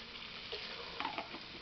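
Lote fish curry being stirred gently in a pan over low heat, heard as a soft, steady sizzle with a couple of faint scraping touches near the end, with no voices.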